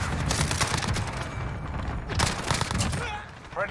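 Rapid bursts of gunfire from the video game Modern Warfare, dense and loud almost throughout with sharp crackling shots piling up in quick succession.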